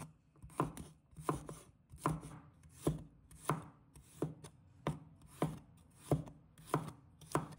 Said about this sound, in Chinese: 把大蒜切成片